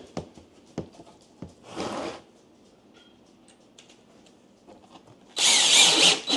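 A power drill drives screws into slim wood trim over drywall, with short whirring bursts of the motor at the start and end separated by scattered light knocks and handling clicks.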